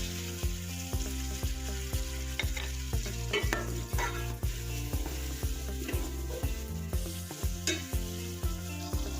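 Sliced potatoes and jasmine are stirred in a pot over steady frying sizzle, with repeated scraping strokes from a utensil at a regular rhythm throughout; no one talks.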